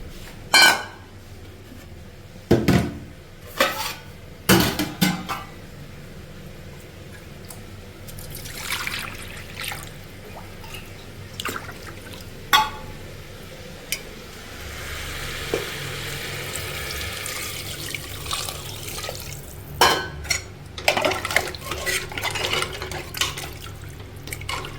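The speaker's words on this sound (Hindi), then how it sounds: "और इसमें पानी डाल देती हूँ।" Water pours and trickles into a cooking pot of potatoes with a steady sizzle beneath it, broken by several sharp clinks and knocks of utensils.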